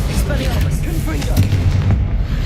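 Heavy booming blasts of a Confringo blasting spell in Hogwarts Legacy, loud rumbling explosions rolling over one another in a continuous barrage of combat noise, with faint voices mixed in.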